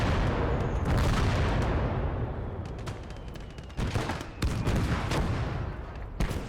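Artillery guns firing in a video game battle, a rumbling barrage of booms that fades from heavy continuous fire into sparser sharp blasts and distant explosions.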